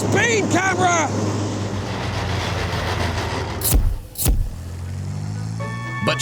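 Scorpion light tank travelling fast on a public road at over 50 mph: a steady loud engine and track roar with heavy wind rush, a couple of sharp thumps partway through, and a voice speaking over it.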